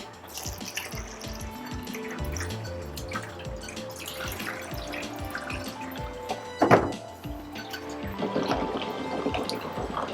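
Pre-wash water is poured and drips for color film developing, a busy stream of splashing and dripping with scattered thunks of handling and a brief clatter midway, fairly close and steady throughout.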